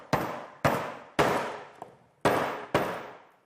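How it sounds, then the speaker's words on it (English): A hammer strikes caster pegs into a wooden drawer in five sharp, evenly spaced whacks, each ringing out briefly before the next, with a faint lighter tap between them and no talking. "there's something about whacking with a hammer, isn't there?"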